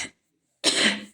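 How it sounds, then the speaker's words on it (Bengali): Two coughs sound close by with a pause between them. The first is short and trails off, and the second is longer and harsher. "বাবা এত কাশি হচ্ছে আমার।"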